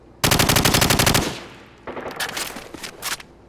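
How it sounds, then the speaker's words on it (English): Full-auto assault rifle blind fire in Call of Duty 4: a fast, loud, close burst of rapid shots, then a looser second stretch of quieter shots and echoes. "Trigger all the way down, blind fire."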